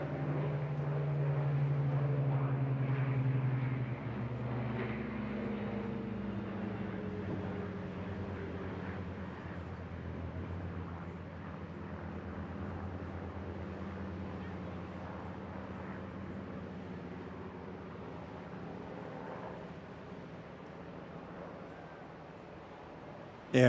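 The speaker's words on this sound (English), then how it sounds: "no air show is complete without at least one Spitfire. Getting two here, an absolute gem of a moment." Two Spitfires, a Mark 9 and a Mark 19 flying together as the Merlin Formation at the Bournemouth Air Festival, make a deep droning engine note that swells loudly early on, then settles into a steadier drone that slowly fades.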